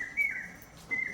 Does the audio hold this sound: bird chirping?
yes